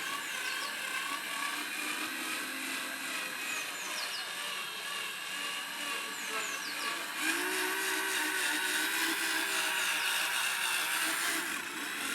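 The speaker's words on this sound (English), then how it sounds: "Keep the drill steady and firm and let it do its job" A power drill buffing a car headlight whirs steadily with a high, continuous hiss, its pitch rising slightly partway through, close and constant with no talking.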